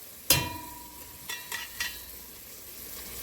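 Dry seasonings are stirred into hot oil for brown stew chicken, with one sharp metallic clank of a spoon against the pot followed by a few softer scrapes and a quiet sizzle underneath.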